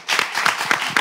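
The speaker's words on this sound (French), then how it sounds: "Vous-même, déjà, vous pouvez applaudir pour vous." Studio audience clapping along at a live Congolese TV show, a steady, fairly dense patter of hands with a few sharper claps standing out, close and continuous for the whole second.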